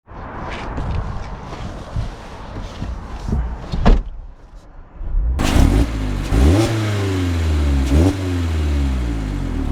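A 2024 Mazda Miata RF Grand Touring with a 6-speed manual gearbox pulls away, its engine revving up through rising gears after a door thud, close and loud with no talking.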